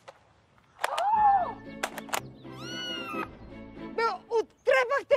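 A cat meows with rising and falling tonal calls, loud and close, repeated several times over a low background that is mixed with other sounds.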